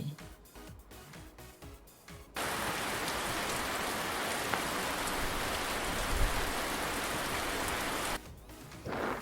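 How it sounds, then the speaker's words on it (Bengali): Rain pours steadily onto an umbrella, a dense, even hiss of drops that starts abruptly and stops after several seconds, with music heard before and after it. "ছাতা মাথায় বৃষ্টি পড়ে"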